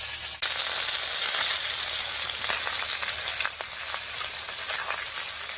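Steady loud sizzling as cut stems and eggplant go into hot oil in a pan for a snakehead fish curry with potato, continuous frying hiss with a few soft stirring rattles.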